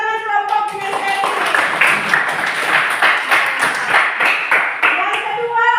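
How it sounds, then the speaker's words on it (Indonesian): Group applause for the kinesthetic discussion group at a classroom coaching session, a steady burst of many hands clapping that fills the whole stretch, loud and close, with faint voices mixed underneath. "Beri tepuk tangan kelompok kinestetik."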